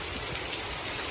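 Rain falling outdoors on a farm at night, a brief steady hiss of dense rainfall with no other sounds.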